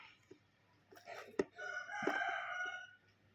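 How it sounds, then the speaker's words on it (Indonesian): A rooster crows loudly nearby, a long drawn-out call with a rising and falling harmonic tone, preceded by a few short clucks and sharp knocks. "Dengar gak sih kalau ada suara ayam?"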